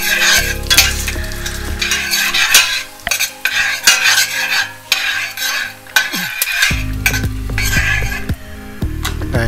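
Cumin seeds and broken dried red chillies dropped into hot oil for sambar, giving a loud, close sizzle and crackle mixed with metal spoon clinks and pan scrapes as the spices are stirred.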